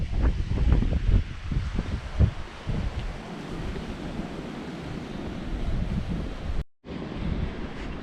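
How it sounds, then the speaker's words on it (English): Sea waves at Magaluf splash against a beach wall, a steady rushing surf mixed with gusty wind buffeting the microphone, loud and continuous with a brief dropout near the end. "last look at the beach and waves splashing against the wall over there"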